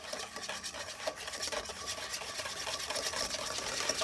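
Homemade mayonnaise being whisked by hand outdoors for a Florida hog cookout gives a steady, close scraping and rubbing that runs without a break, with a fast, even rhythm and no voices.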